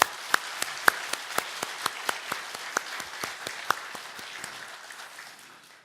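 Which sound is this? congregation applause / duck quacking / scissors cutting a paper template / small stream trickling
congregation applause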